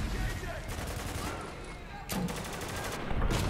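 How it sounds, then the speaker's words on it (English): Gunfire in the military shooter Spec Ops: The Line, with several sharp booming shots, including a grenade launcher, over a busy battle din, the loudest blasts coming near the middle and end. "Alright, I need to use this nade launcher."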